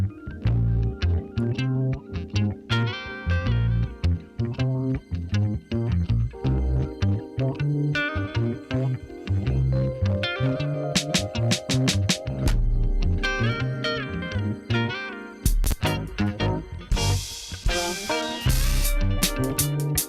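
A jazz neo-soul sample kit played without drums: layered chords and melodic sample phrases with effects, loud and continuous, ending in brighter noisy bursts near the finish.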